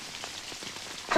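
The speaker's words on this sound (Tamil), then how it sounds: "அதான் தி செயற்கை மழை ப்ரொடியூஸ் பை ஆளுங்கட்சி ஆறுமுகம் அண்ட் ஸ்பான்சர்ட் பை நல்ல முத்து ஓசி ஏசி." Artificial rain pours down in a Tamil comedy film scene, a steady, even patter of drops on the ground throughout, with a sharper splash at the very end.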